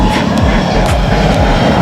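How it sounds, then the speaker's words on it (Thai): A fixed-wing airliner lands near a surfskate park in Lat Krabang, Bangkok, its engines roaring loud and steady close overhead with continuous broadband rumble. "เหมือนพาลูกๆนหลานมาดูเครื่องบินมันแลนดิ้งอ่ะ"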